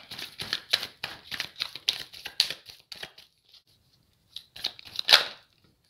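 Tarot cards drawn and handled close by: a quick run of crisp snapping and sliding card sounds, a short pause, then a few more flicks and slaps.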